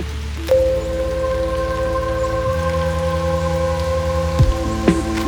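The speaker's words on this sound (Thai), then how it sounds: "วันนี้ฝนตกนะคะ" Rain falls on Alocasia plants in a home garden: a loud, continuous patter with steady tonal hums running underneath and no voices.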